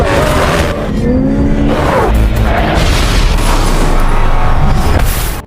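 A car bomb explodes with a loud roar, heavy low rumble and crackling debris, over sustained engine-like noise, filling the whole stretch without pause.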